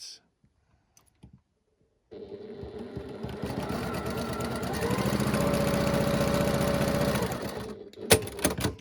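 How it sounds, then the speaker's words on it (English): A sewing machine stitches a quarter-inch seam on a quilt block. After a quiet start it begins a steady, close mechanical whir that runs for about six seconds, then stops, followed by a couple of sharp clicks. "all I'm doing is sewing 1/4 inch down this side"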